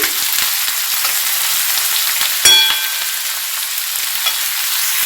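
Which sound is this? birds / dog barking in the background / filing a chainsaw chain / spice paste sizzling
spice paste sizzling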